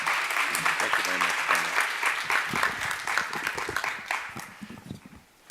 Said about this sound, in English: let's all give a round of applause and thanks